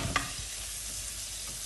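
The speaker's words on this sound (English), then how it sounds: "Sizzling is starting to decrease." Chicken tikka masala fries in a heat-retaining pan on an induction hob, giving a steady broadband sizzle with a quick scrape of stirring at the start, close and continuous.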